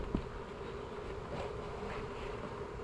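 Honeybees drone around an open hive box on a spring day in West Virginia, a steady, low, even buzz of many insects close by, with one brief knock near the start.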